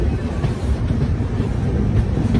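The Yoga Express train pulling into Roorkee station, a steady low rumble of wheels and carriages rolling along the track at moderate volume with no speech.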